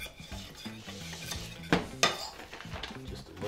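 A spoon stirs thick flour batter in a bowl to work out the lumps, with rhythmic scraping and dull knocks against the bowl and two louder clacks, close by with no talking.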